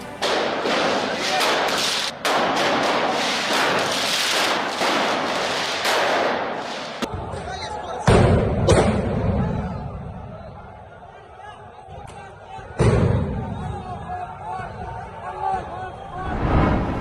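Gunfire inside Al-Aqsa Mosque in Jerusalem during a clash: a few sharp, loud bangs stand out from dense crowd noise and shouting voices, with an echoing indoor space and quieter stretches between the shots.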